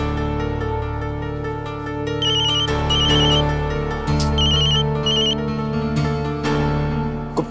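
A phone ringtone plays a repeating electronic melody with bright, beeping tones over a sustained musical backing, loud and continuous.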